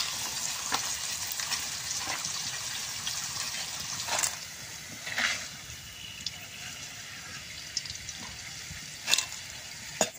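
Crispy snack frying in oil in a pan, a steady close sizzle with a few louder crackles and bursts, no talking.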